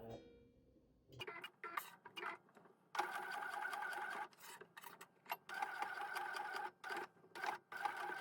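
A sewing machine runs basting stitches along the raw edge of a waist pack wing, close and clear, in short bursts of fast rhythmic whirring separated by brief pauses.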